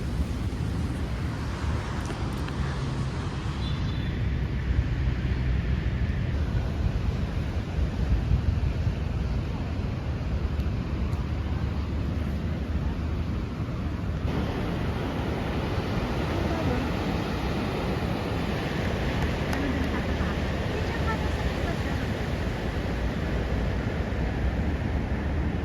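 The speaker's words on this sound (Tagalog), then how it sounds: "ang lakas ng alon. Pero mas malakas yung kahapon." Strong surf rolling onto Da Nang beach in Vietnam, a steady roar of breaking waves mixed with wind buffeting the microphone, continuous and fairly loud for the whole stretch.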